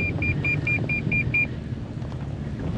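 A luxury SUV crawling up a steep off-road slope in four-low gives a quick run of seven evenly spaced electronic warning beeps over a steady low engine and road rumble, then only the rumble continues.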